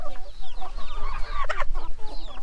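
A hen of a dark-brown-egg-laying breed clucks repeatedly in a farmyard run, with close, busy, broken bursts of clucking and no talking.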